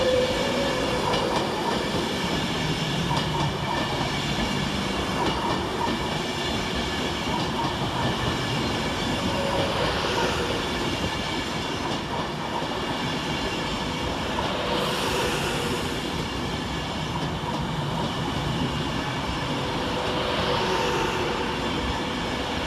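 An Avanti West Coast train running from Manchester Piccadilly to London Euston passes through Aston station on a diversion, a long continuous rumble with rhythmic wheel clatter and occasional squeals of wheels on rail, loud and close.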